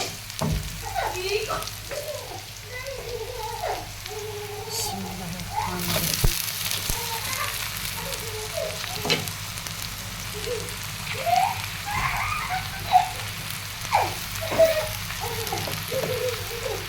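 Bitter gourd slices frying in a pan with softened onion and ginger give a low, crackling sizzle, with intermittent stirring scrapes and clatters throughout and occasional soft voices in the background.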